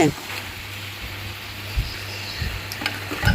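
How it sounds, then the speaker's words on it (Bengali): Fried potato and papaya pieces being stirred in a frying pan for a fenugreek chicken dish, with a low sizzle and a few soft scraping knocks of a spatula against the pan, close by. "আলু আর পেঁপেটা ভেজে রেখেছিলাম, সেটা এখন দিয়ে দিলাম। এবার একটু নাড়াচাড়া করে"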